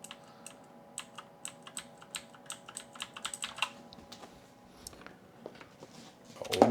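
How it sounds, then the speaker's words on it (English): Rapid clicky keystrokes on a cheap mechanical keyboard with clone blue switches, fairly quiet and close, in an uneven typing rhythm with no talking. "one of these cheapo mechanical keyboards sounds like."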